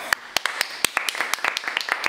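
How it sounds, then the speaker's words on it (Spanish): Several hands clap in quick, uneven bursts at a school, a short, close round of applause with sharp repeated slaps. "¡Aplausos!"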